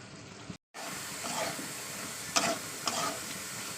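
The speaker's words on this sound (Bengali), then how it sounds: "আলুটা দিয়ে আমি ভালো করে এই মশলার সঙ্গে কষিয়ে নেবো, পুরো 1 মিনিট ধরে কষাবো।" Potatoes fry and stir with spices in a hot pan, giving a steady soft sizzle and hiss with brief scraping stirs, fairly quiet and close, after a short cut of silence.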